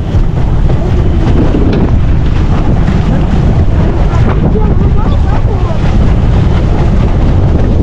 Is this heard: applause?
no